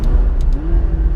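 McLaren 570S Spider in sport mode blipping its engine on a gearbox downshift: a loud, deep growl whose pitch rises quickly, with a couple of faint clicks on top.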